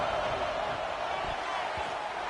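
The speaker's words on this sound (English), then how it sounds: "The Sooner fans booming. A cacophony of noise at the Palace on the Prairie on third down." Sooner fans roar at a packed college football stadium, the Palace on the Prairie, on a third down: a dense, sustained wall of crowd noise, loud and unbroken from start to finish.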